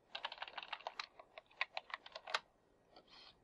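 Rapid keystrokes on a computer keyboard while renaming an item, a quick burst of clicks that thins to a few scattered taps, close and clear with no talking.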